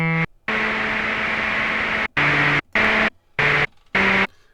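Hissing noise from a Korg Monopoly synthesizer's noise generator in loud blocks, a long burst then four short gated bursts with silent gaps between, a faint pitched tone underneath.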